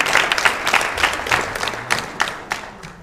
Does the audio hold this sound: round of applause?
yes